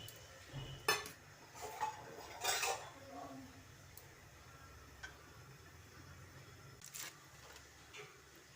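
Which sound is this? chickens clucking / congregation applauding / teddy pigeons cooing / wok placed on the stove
wok placed on the stove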